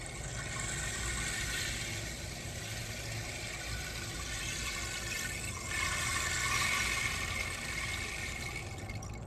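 A babbling-stream toy instrument for a baby plays a steady rushing, trickling water sound that swells slightly near the end, heard alone without talk.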